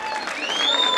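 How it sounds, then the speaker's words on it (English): Crowd applause at the 2011 GMC annual fun run, a steady wash of clapping held for about a second, with faint tonal sounds above it. "a big round of applause to the Ajman police"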